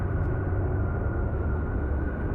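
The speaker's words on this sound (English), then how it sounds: "that's the sound of wind" Wind in the video game Outer Wilds, a steady broad rushing roar, low and continuous throughout with no gusts or breaks, heard alone without talk.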